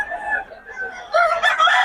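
Rooster crowing with chickens clucking nearby, a close, loud, strained crow followed by a brighter burst of squawking calls, heard briefly and alone.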